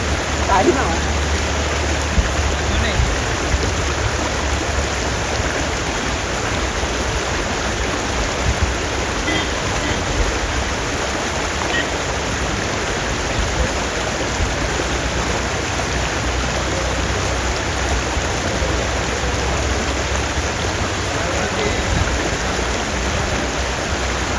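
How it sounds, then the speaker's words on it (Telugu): Water rushes along a canal-like stream in a steady, close wash that holds constant for the whole stretch, with people talking over it. "కాలువ లెక్క ఉన్నది, నీళ్ళు పోతున్నాయి, వాటర్ సౌండ్ విని వచ్చినాము."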